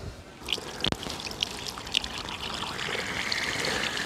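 Water pouring and trickling out of a hole in a failed BMW N62 V8 engine in an E64, a steady close splash with a few sharp clicks and drips, growing a bit stronger toward the end.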